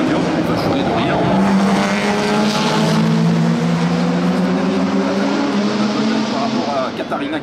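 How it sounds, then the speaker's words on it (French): Historic Maserati 300S racing cars with 4-litre engines roar past at the Monaco Historic Grand Prix, a loud rising and falling engine snarl sweeping by, with a voice talking over it. "Le due veloci Maserati 300S"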